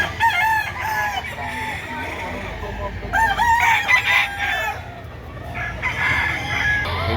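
Stag chickens and roosters crow repeatedly at a Lipa City, Batangas poultry market, loud and close, with overlapping calls, clucking and faint background talk.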